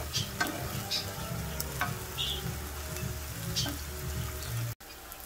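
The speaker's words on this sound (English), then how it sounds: "The onions and garlic are nice and sauteed." Onions and garlic with cracked black pepper sauté in a pan, a constant close sizzle broken by soft scrapes of stirring, before a sudden cutoff near the end.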